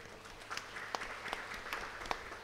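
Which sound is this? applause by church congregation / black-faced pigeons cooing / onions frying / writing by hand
applause by church congregation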